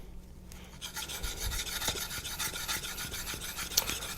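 A convex-ground knife is drawn across a Naniwa diamond whetstone in repeated rasping strokes, a gritty scraping rhythm that starts after a quiet moment and carries on close and clear with no talking.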